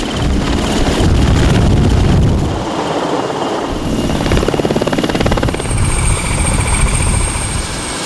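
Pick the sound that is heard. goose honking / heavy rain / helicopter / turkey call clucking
helicopter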